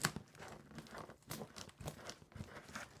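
Scissors strain and snip through tough packaging tape with rough tearing and crinkling in repeated short bursts, close and quiet with no voices.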